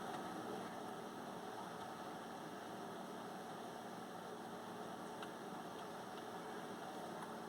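An Ursus 1614 tractor engine ploughing heavy fallow ground in snow drones steadily and faintly at a constant pitch, with a continuous mechanical hum and no speech.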